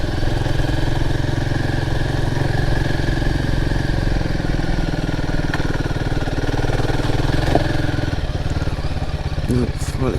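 A Royal Enfield Himalayan 450 motorcycle rumbles continuously while being ridden, its engine loud and close with a steady mid-pitched drone, and a rider's voice talks over it.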